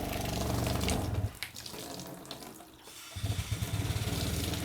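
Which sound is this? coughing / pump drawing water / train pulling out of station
pump drawing water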